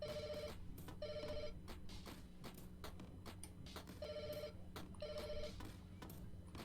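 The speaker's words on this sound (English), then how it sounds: "I just want to find this ringing phone." Inside the video game Lake Haven - Chrysalis, a telephone rings in steady paired bursts over a low ambient hum, loud and clear with no talking.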